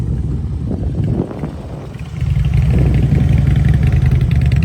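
A motorcycle engine runs nearby with a low, steady idle that grows louder and fuller partway through, holding a constant throb.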